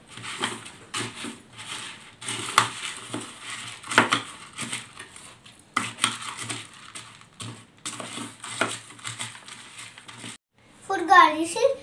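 Bhel puri being tossed with lemon juice, giving irregular clinks and crunchy rustles of utensil against dish throughout, with a voice appearing near the end.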